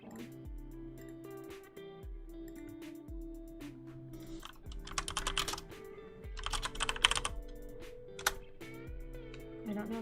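Computer keyboard typing in a calm work-and-chill setting, with steady close key clicks that thicken into fast clattering bursts and occasional heavier space bar hits over a soft low drone, with no voices.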